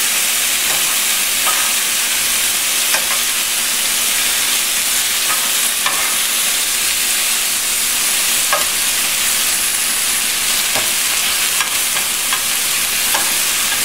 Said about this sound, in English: I don't know if you actually could call this a saute or a steaming